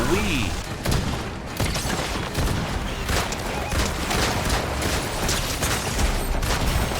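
Player being hit by gunfire in Fortnite Season 4, dense thumping shots and impacts crowding together under a busy, loud game mix with a voice talking over it.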